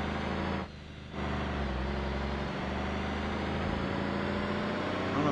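FS65 truck engine in the BeamNG driving game, a loud, steady low diesel drone with a brief dip in volume near the start, heard alone without talk.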